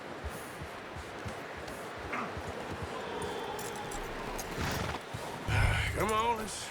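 In Red Dead Redemption 2 a horse's hooves clop at moderate volume, then a clear rising whinny bursts out near the end, with voices faintly in the background.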